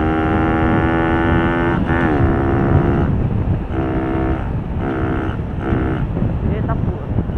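Four-stroke moped engine revving hard while riding, a strong buzzing drone that rises and dips in pitch through several throttle surges, mixed with heavy wind rush.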